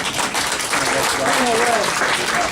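Applause rises from a crowd at a CPAC-related political talk event at Viper Alley in Lincolnshire, Illinois, a dense continuous wash of clapping with a voice speaking over it.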